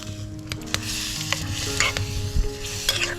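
Spices crackle and sizzle in hot oil close by for a tempering for cashew curry, with a utensil stirring and scraping the pan in short strokes.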